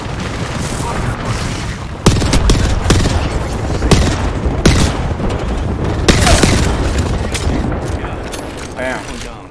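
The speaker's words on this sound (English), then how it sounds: "Throwing grenade." A grenade blast and sustained gunfire in a shooter game, with loud close booms and rapid cracking shots layered over a constant din of battle, a heavy hit landing about two seconds in.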